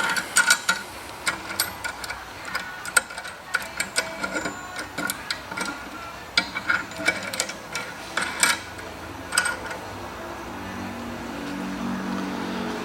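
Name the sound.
undoing clamp of brake line flaring tool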